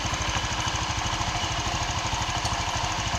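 A Honda Vario 125 scooter engine runs roughly up close, a loud steady idle with an uneven, rattling pulse.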